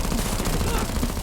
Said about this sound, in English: rocket launcher shots.